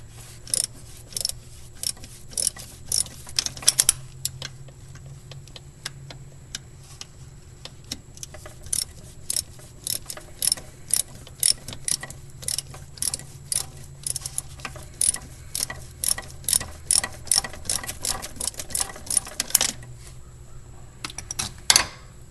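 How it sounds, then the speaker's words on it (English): Ratchet clicking while loosening the 8mm bolt that holds the fuel filter on a 2000 Toyota Sienna, sharp close metallic ticks in irregular bursts through most of the clip, with no talking. "So now I just gotta loosen that right there, the thing that holds the filter in there"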